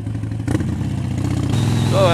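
A Harley-Davidson Sportster 72 motorcycle engine idles close by in a steady, loud low rumble, with some clatter and a brief blip partway through.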